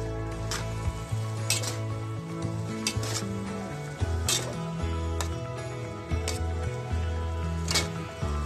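Masala being stirred through Nagercoil-style aviyal vegetables in a pan, with steady soft scraping and stirring, occasional light clinks of a spoon against metal and a faint sizzle underneath, moderately quiet and without talk.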